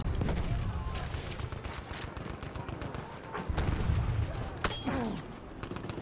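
Gunfire aimed at the player in the video game Heart of Angel. Sharp shots crack in quick bursts over a dense rumbling battle din, with several louder reports standing out.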